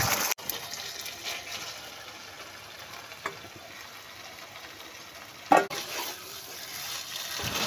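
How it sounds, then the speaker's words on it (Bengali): Vegetables for sukto stirred into fried spice paste in oil, with a steady soft sizzle and occasional spatula scrapes and knocks against the pan, one sharper clank near the end, and no talking. "এবার আস্তে আস্তে কিছুক্ষণ সবজিগুলোকে একটু নাড়াচাড়া করতে হবে।"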